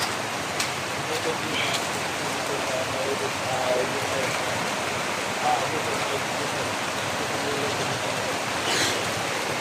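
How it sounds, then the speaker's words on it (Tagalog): Heavy rain pours steadily outside a flooding house, a dense, continuous loud wash of noise with no clear breaks, and faint voices underneath. "Lumalakas ko yung ulan."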